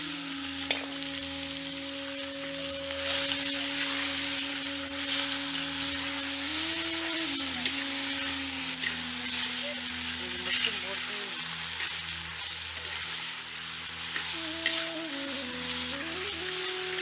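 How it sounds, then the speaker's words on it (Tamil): Salted mutton pieces fry and sizzle in a pan for Chettinad uppu kari, a steady dense crackle with occasional stirring, close and continuous, under a faint background hum, with no speech. "இப்ப உப்பு கண்ட கறிய சேர்த்து நல்லா வறுத்துக்கலாம்"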